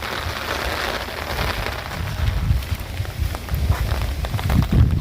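Storm rain falls steadily outdoors onto muddy ground, a dense, continuous hiss with scattered heavier drop patters and low thumps, fairly close and without talking.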